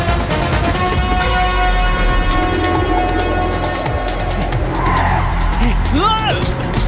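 During a film chase in which the car must not stop because a bomb is on board, a car drives hard with a steady engine roar, and tires squeal in sharp skids near the end. Other sounds are mixed into the loud scene.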